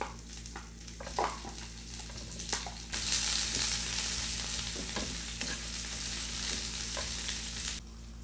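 Onion hits hot olive oil and sizzles, a soft hiss at first that jumps to a loud, steady frying crackle, with occasional stirring scrapes and a low hum underneath.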